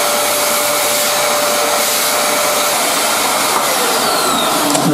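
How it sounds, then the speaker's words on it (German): A vacuum cleaner runs steadily and loudly up close, sucking up debris left from drilling into a desk during a modding project, with a constant roaring whoosh throughout and no talking. "Das mache ich jetzt erstmal mit dem Staubsauger sauber."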